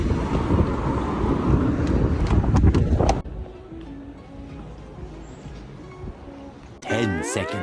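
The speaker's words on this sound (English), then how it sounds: "It is windy as hell over here" Strong wind gusts at an open roadside stop on a road trip, a loud, rough roar buffeting the microphone for about three seconds, then easing to a lower rush with a faint engine hum before another loud gust at the end.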